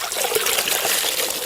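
Water trickles and splashes softly but steadily for a moment as a sponge used on pool tile grout is rinsed.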